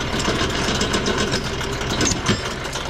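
A chainsaw engine runs steadily at idle close by during tree cutting, a continuous rough mechanical drone with no speech.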